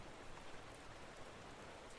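Gentle rain patters on a surface in a constant, hushed wash of droplets, faint and unbroken throughout.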